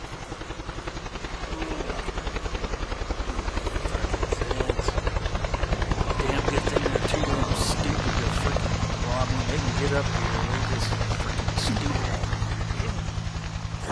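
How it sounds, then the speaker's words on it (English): A helicopter's steady rotor thump drones loudly throughout, swelling slightly as it passes overhead, with faint voices in the background. "there goes that helicopter again"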